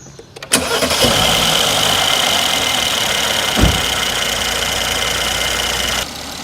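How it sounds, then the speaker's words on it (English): A Mercedes E400 engine cranks and catches, then settles into a steady, loud idle close by, with a brief thump partway through and a slight drop in level near the end. "as I start the engines"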